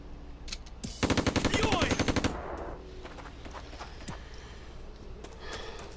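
Gunfire in the tactical war video game Operation Darkness, a loud rapid burst of repeated shots lasting about a second, followed by quieter game sounds and scattered clicks.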